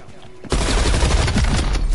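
Dense gunfire from the video game Black Ops Cold War erupts after a quiet half second, a loud continuous barrage of overlapping shots and bursts that fills the rest of the moment.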